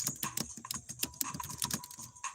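Fingers tap steadily on a computer keyboard, a quick, irregular patter of close, crisp keystrokes lasting a couple of seconds, with no voices.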